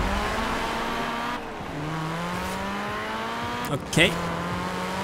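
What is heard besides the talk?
fully upgraded car driving in video game Forza Horizon 4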